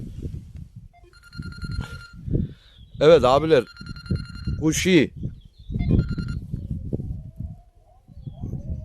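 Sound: mobile phone ringing

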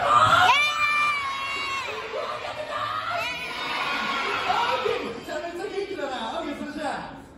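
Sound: audience shouting and cheering at a live show

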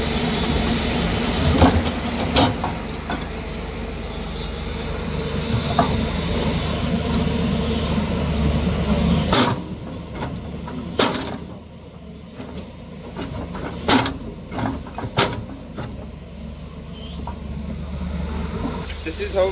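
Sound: new 210 machine working on site, shifting rock

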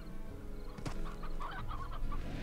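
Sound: chickens clucking in the video game Slime Rancher

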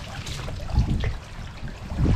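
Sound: water dripping from pulled-up oyster cage

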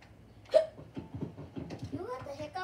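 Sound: child hiccuping

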